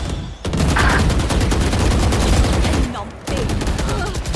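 Loud, sustained automatic gunfire from the video game Smol Towers rattles on almost without pause, breaks off briefly, then resumes for a final burst.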